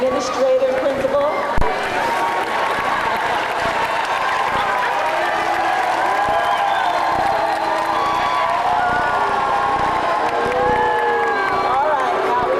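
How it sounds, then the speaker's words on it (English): An audience at a graduation ceremony cheers, whoops and applauds in a steady, sustained roar of a large crowd that fills the hall, with no single voice standing out. "now we don't need the audience cheering to go on here"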